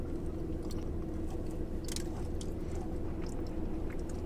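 Close-up chewing of a ginger-flavored treat with a crunchy top and soft middle, a steady stream of moist crunches and squishy bites with no talking.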